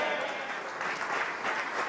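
Crowd in a room cheering and applauding at a Tory leadership campaign launch for Boris Johnson, dense sustained clapping throughout, loud and close.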